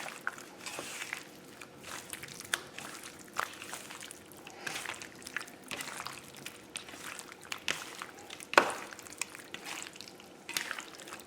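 Pork and pasta are mixed with peanut sauce and an egg, giving quiet, intermittent wet stirring and squishing noises with occasional light clinks, faint and close, with no voices.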